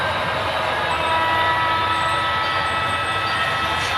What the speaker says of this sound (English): Here comes the steamer barreling along.